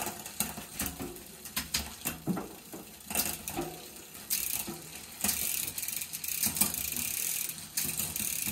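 A 9-speed bicycle drivetrain shifts and runs, giving irregular close mechanical clicks and ratcheting chain noise that turns into a steadier whirring grind toward the end, fairly quiet with no talk.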